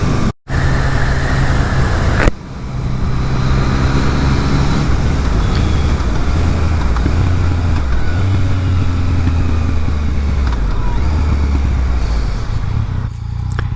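Steady drone of a Yamaha XSR900 motorcycle being ridden on the road, with a constant engine note under heavy wind rush, a brief dip near the start and a gear change as it continues at speed.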